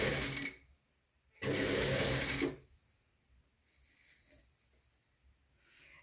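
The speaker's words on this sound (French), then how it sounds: "on va venir piquer ça sur la couture qu'on a fait" A sewing machine stitches a seam on a handmade recycled handbag in two bursts of steady mechanical whirring, the second longer, then quieter handling sounds.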